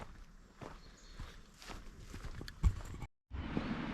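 Footsteps of a person walking back along an outdoor path on Saaremaa, near Kärla by a river, steady paced steps over soft ground with a brief louder scuff and a short gap near the end.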